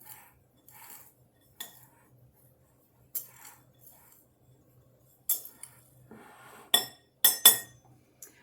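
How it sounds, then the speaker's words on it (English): Metal knife scraping and clinking against a mixing bowl while stirring grated cheese and flour for cheese scones, with scattered short taps and clinks, sharper and louder toward the end. "Give them a little mix with your knife"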